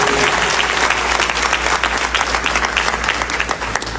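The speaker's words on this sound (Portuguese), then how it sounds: "Vamos aplaudir ao Senhor" A church congregation applauds in worship, dense continuous clapping throughout, loud and close, with a low hum beneath.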